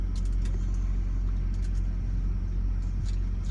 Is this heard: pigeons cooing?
no